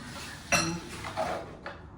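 Dishes and cutlery clink faintly while food is made in a bathroom during kitchen furniture assembly: a few scattered light knocks and chinks over a quiet room.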